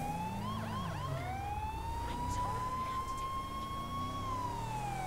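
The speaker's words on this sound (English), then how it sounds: "turn on the sirens" A video game fire engine's wailing emergency siren sweeps up and down, then holds a steady rising tone, loud and continuous with a background rumble.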